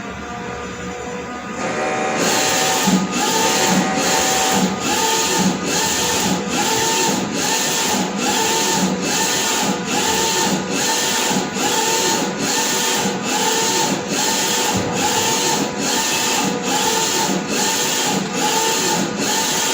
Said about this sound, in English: Then let's just watch the machine.